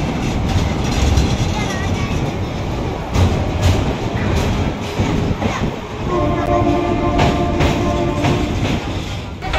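A train on the Vasai Road to Panvel line rumbles and rattles steadily from inside the carriage, with clacking wheels, a rising horn blast near the end and faint voices in the background.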